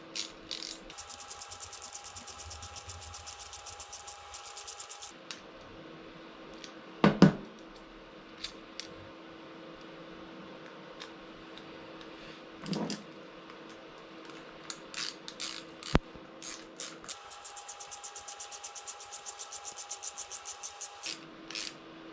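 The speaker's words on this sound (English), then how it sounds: "So it's going to tighten up those two bolts." Bolts being tightened with a ratcheting tool on a 2017 Yamaha R6 motorcycle, fitting a racing fuel cap: rapid ratchet clicking in bursts at the start and end, with a few sharp knocks and clicks between, close and fairly quiet.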